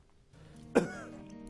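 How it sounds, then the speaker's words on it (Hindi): A single sharp cough, close by, rising briefly out of a quiet room background. "कब से खांसी है इनको?"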